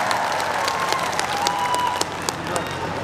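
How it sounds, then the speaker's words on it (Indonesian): Crowd applause for the Banser Taiwan contingent at a large outdoor religious gathering in Taiwan, steady dense clapping with scattered sharper claps throughout, fairly loud and continuous. "Tepuk tangan untuk banser Taiwan."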